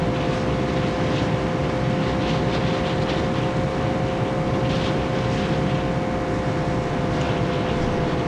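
An overheating car engine in BeamNG.drive, damaged and running at a sustained high rev as a steady, loud, rough roar with a whining tone, continuous for the whole stretch and with no voices.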